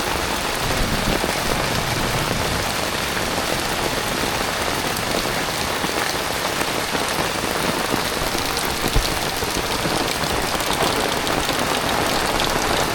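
Heavy rain pours down on a village, flooding homes, in a dense, constant roar, loud and unbroken from start to finish with no voices.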